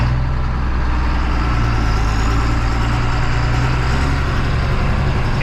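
A tractor with a 15-speed powershift transmission runs steadily in 7th gear, its engine giving off a continuous low diesel rumble close by with no talking.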